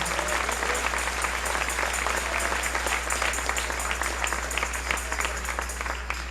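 A church congregation at a morning service applauds in a dense, steady round of many hands clapping, filling the room evenly from start to finish over a low hum.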